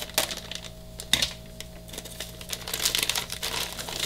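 Crinkling plastic and paper packaging cut open on an Align T-Rex 760X helicopter kit, close and moderately loud, with irregular rustles, snips and a few sharp clicks.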